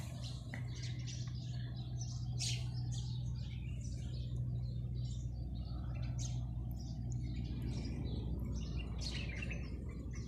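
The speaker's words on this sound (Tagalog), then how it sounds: "sounds of the birds" Several birds chirp and sing outdoors on a morning in the countryside, bright, frequent calls near and far over a steady low hum of background noise.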